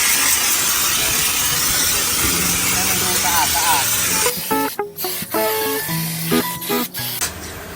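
Cleaning solution is sprayed onto the engine bay of an old car, giving a loud, steady hiss for about four seconds that then cuts off, followed by intermittent tonal beeps and clatter.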